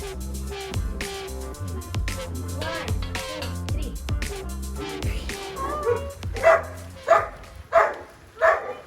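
A puppy yips and barks in a few sharp high bursts near the end, following a stretch of background music and household noise.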